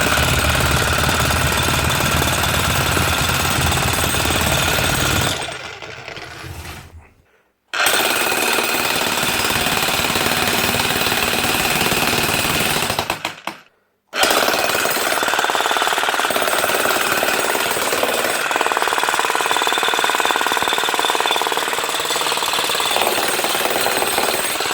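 Hikoki (Hitachi) D65sd3 demolition hammer running in loud, continuous bursts of rapid pounding, a faulty strike losing power, with two brief pauses between long runs, close and dominant.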